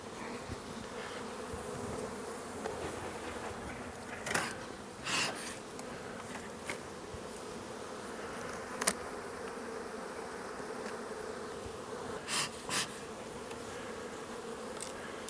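Honey bees hum steadily around an open hive during the summer honey harvest, a continuous close drone with occasional louder buzzes as individual bees pass near, and no talking.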